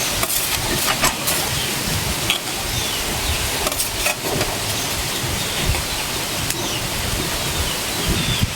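Fried eggplant slices go into simmering mustard gravy and are stirred, giving a dense, steady bubbling sizzle with soft scraping and splashing throughout.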